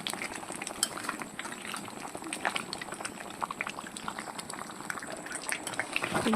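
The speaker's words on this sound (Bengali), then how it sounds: "এইভাবে নাড়াচাড়া করতেই থাকবো, ভালোভাবে সেদ্ধ করে করে আমের আচারটা বানাতে হবে।" Raw mango sweet pickle bubbling in a pot as a spoon stirs through it, soft steady boiling with scattered light scrapes and taps, fairly quiet and close.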